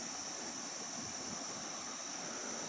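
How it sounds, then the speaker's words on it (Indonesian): A fairly large river rushes below in a steady, broadband wash of flowing water, continuous and moderately distant with no talking. "di bawah ini ada sungai yang cukup besar teman-teman"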